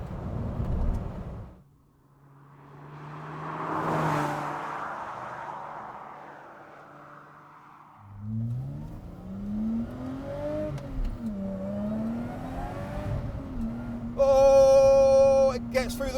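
Lotus Exige V6 tuned by Komo-Tec to 460 on winding roads, the engine revving and climbing quickly through the gears with rising and falling whines, a swell of passing noise midway and a sharp loud burst near the end.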